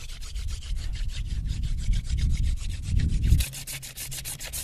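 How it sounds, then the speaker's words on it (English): A wooden spindle is spun between the hands into a hearth board for a hand drill friction fire, giving a rapid rhythmic rubbing and scraping. The strokes repeat back and forth, close and fairly quiet, with no talking. "now I'm ready for a third attempt at the hand drill"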